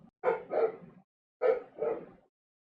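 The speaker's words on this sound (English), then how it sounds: "My dog, my real life dog is barking on the other side of the house." A dog barks from another room of a house, four muffled barks in two quick pairs with a short gap between them.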